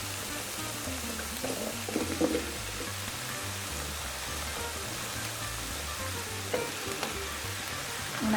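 Potatoes browning in a Cosori multi-cooker, a steady hiss and sizzle with faint scrapes and clinks now and then, close and moderately loud.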